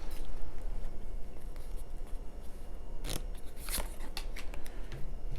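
Tarot cards being pulled and shuffled, crisp papery riffles and snaps standing out in two sharp bursts over a steady low background hum.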